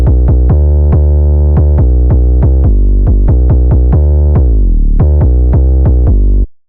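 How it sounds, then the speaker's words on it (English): A trap beat's 808 bass line pounds out in rapid, evenly spaced booming notes with deep sustained tails and several pitch-sliding glides. It is loud and alone, then stops abruptly near the end. "So this is what the first 808 sounds like."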